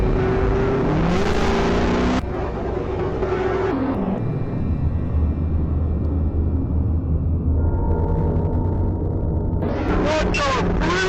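A really loud car engine roars up close, a harsh revving drone that shifts pitch as it accelerates and eases, steady and dominant for several seconds with a brief burst of noise near the end.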